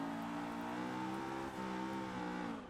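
A BMW E30 engine drones steadily from inside the cabin in Forza Horizon 4, revving slightly in fourth gear with a smooth harmonic hum, fairly quiet and continuous.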